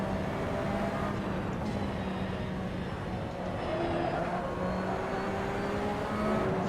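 Porsche 911 RSR race car engine in Assetto Corsa at Monza, a dense, steady roar at constant high revs with faint gear shifts, heard alone and close.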